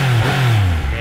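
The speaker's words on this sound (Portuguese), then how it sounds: "ó o ronco dessa aqui, ó" A Yamaha MT-09 850cc motorcycle, close and loud, gives one short deep rev that sweeps up and drops back with a gruff rumble.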